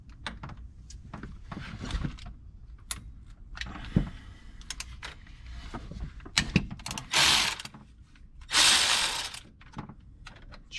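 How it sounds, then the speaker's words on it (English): A ratchet works on the Allen bolts of a Can-Am Maverick 1000R sprocket, giving close, quick clicking bursts and metallic taps, followed by two louder, longer rasping pulls near the end. "let's remove these Allens, and we'll pop that sprocket off"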